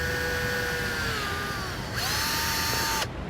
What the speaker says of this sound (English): We're going to take a 1/4 inch drill bit, we're going to drill a hole into each one of those.